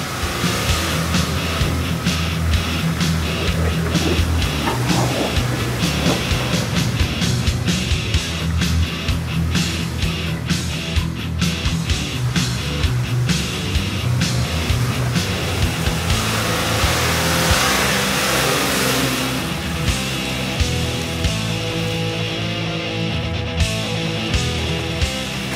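A car engine revs hard and steadily for a long stretch as the vehicle strains to pull free of a rutted, muddy dirt road, a loud continuous drone with rising and falling surges and no talking.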